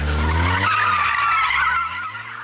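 A stunt driver's car slides through a handbrake turn, its tires letting out a loud, close skidding squeal that holds for about two seconds before easing off.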